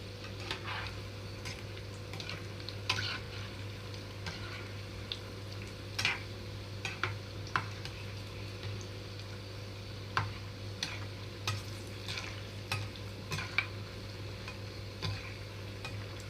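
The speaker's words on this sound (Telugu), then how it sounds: "ఇక్కడ వేసిన వెంటనే కదిలించకుండా రెండు నిమిషాలు ఆగిన తర్వాత కొంచెంగా కదిలిస్తున్నాను" Onion pakodi batter fritters frying in oil, stirred gently with a utensil that clicks and taps against the pan at irregular intervals over a steady low bubbling sizzle, close by and with no voices.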